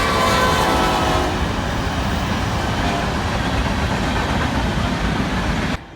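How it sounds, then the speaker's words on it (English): A train rumbles past close by, its horn blaring over the rolling clatter of the cars at first before the steady roar of the wagons carries on alone and then cuts off. "I saw a train"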